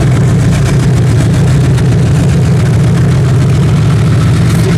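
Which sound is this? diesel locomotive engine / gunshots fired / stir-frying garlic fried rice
diesel locomotive engine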